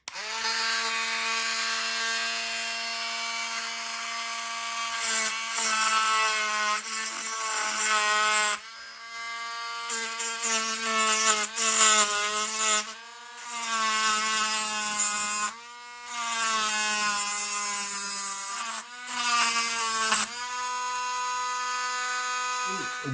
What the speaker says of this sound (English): the sharp edge here, which we need to grind off this direction and to remove the sharpness and change the angle of this metal bit